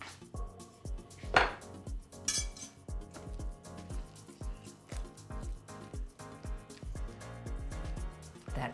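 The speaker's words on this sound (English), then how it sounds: "I'll add the hot white chocolate to it and whisk it all together" Hot roasted white chocolate is whisked into heated whipping cream in a bowl, making a steady run of rhythmic metallic taps and scrapes of the whisk with a couple of louder clinks, close by and without talk.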